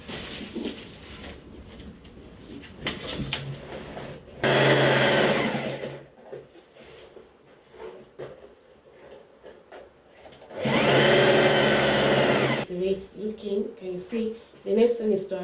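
A sewing machine stitches along the lace fabric edge of an iro and buba neckline, running in two steady bursts of a few seconds each, with quiet talking in the gaps between them.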